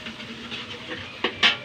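Onion and garlic sizzling as they caramelize in a pan for dinuguan, a steady close hiss with a couple of brief louder spits, no talking.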